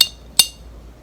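A glass mason jar clinks twice, each a bright, sharp, close strike that dies away quickly, with a short pause between the two.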